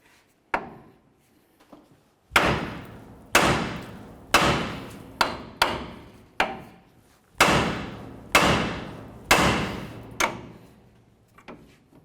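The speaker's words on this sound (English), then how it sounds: "we're going to hit right here on the knuckle to break our outer tie rod end free from the knuckle" Hammer blows against the steering knuckle of a 1999-2007 Chevy Silverado to free the front outer tie rod end: about ten sharp metallic strikes, loud and close, in an uneven rhythm with short ringing decays and no talk.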